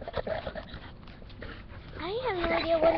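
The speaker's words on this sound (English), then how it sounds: "He's a boxer dog." An old boxer dog sniffs and then whimpers in rising, drawn-out whines near the end, while people talk over it indoors.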